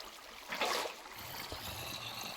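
Flowing water in the Minecraft video game, a soft, steady trickle and stream with a brief brighter splash, fairly quiet and without talk.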